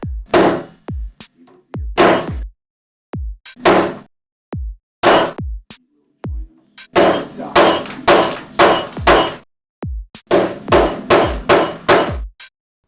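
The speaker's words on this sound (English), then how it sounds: "Hammer each T until they recess completely into each countersink hole" Sharp hammer blows drive metal T-nuts into countersunk holes in a wooden board up close, first in scattered single hits, then in quick bursts of several strikes in a row.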